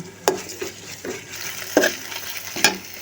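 Blended spice paste fries in a pan for a goat head curry, with several rhythmic scraping stirs over a low, steady sizzle.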